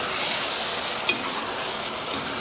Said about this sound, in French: Ça mijote.